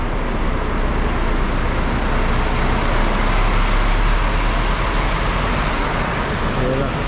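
A large, tall bus rumbles at the Alor Setar bus terminal in Kedah, Malaysia, a loud steady low engine drone amid surrounding traffic noise, with voices talking over it.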